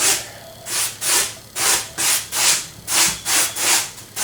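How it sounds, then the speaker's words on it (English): A brush dry-brushing paint over a sand-textured Halloween tombstone makes about nine rhythmic, raspy strokes, each a loud scratchy sweep followed by a brief pause, close up and with no talking. "brushing down, and all that sand that we put in that base coat really causes the dry brushing to pop."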